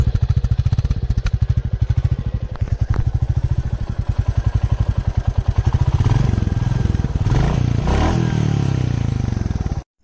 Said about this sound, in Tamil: BS6 எமிஷன் ஸ்டாண்டர்ட்ல வர நம்ம Royal Enfield classic 350 exhaust sound பத்தி நாம வந்து பார்ப்போம்